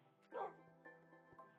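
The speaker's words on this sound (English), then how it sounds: "Oh, I heard a doggy." A dog in the Minecraft video game gives a short, faint bark over soft game background sounds, followed by a few quieter small sounds.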